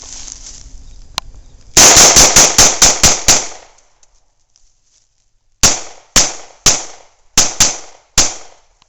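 A 9mm pistol fires full metal jacket rounds into a watermelon: a rapid string of about eight loud, sharp shots, then after a pause five more spaced shots, close and with no talking.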